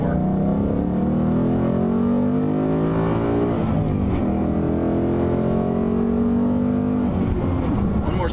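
A 2018 Mustang GT revs hard through repeated 7,000 RPM upshifts, loud and close from inside the car, with each rising engine sweep broken by a short dip at the gear change.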